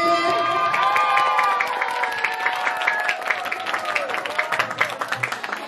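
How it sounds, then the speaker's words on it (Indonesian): Audience clapping at a school quiz competition semifinal, a steady round of applause that gradually thins out while tonal chimes or music play over it. "Berikan tepuk tangan untuk Reguse."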